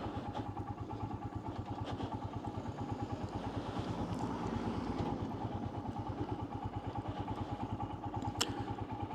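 Royal Enfield Himalayan motorcycle riding through traffic, its single-cylinder engine thumping in a steady even beat from close by, with faint traffic noise behind.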